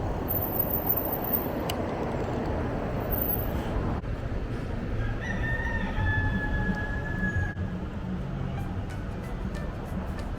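A rooster crows in the middle distance, with chickens clucking faintly, over a steady wash of urban street noise and traffic in Kensington.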